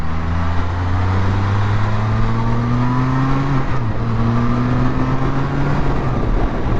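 Engine of a 2024 Can-Am Spyder F3 S three-wheeled motorcycle accelerating, a loud, steady engine drone with rising tones, a brief shift dip midway, then climbing again, close and without talk.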